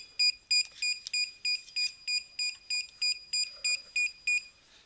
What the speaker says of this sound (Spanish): Si yo paso una, cualquiera de las tarjetas van a escuchar 15 bips.